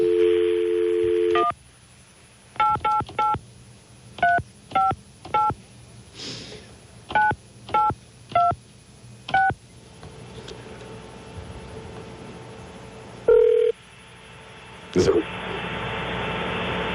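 A telephone keypad dials a call to a radio station's feedback line: a short dial tone, then eleven crisp DTMF beeps in a quick, uneven rhythm, followed by a ringback tone and a brief clatter, all close and clear.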